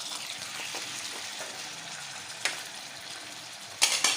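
Pieces of mutton liver fry in hot oil on a tawa, giving a steady close sizzle and crackle with a few sharper pops near the end.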